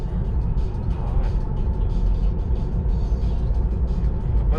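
Steady low road rumble and tyre noise inside a Tesla Model 3 Long Range driving itself on autopilot, a continuous even drone with faint higher hiss and no clear speech.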